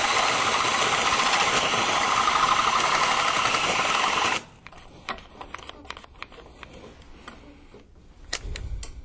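A DeWalt cordless power tool whirs loudly and steadily for about four seconds during work on a Firebird, then stops, leaving quieter clicks and handling noises nearby.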